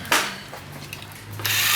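Screws being backed out of the legs of an overlock sewing machine table, giving short ratcheting mechanical clicks and a scrape, moderately close, with a louder burst at the start and a rising rasp near the end.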